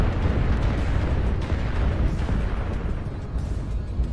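A Gauss rifle slug slams into a mech in MechWarrior Online, a heavy rumbling impact that fills the whole stretch with dense, loud, sustained booming roar and cockpit noise.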